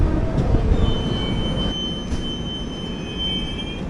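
A Patna–Ernakulam Express train passes close by, a steady loud rolling rumble with high metallic wheel squeal threading through it, continuing without a break.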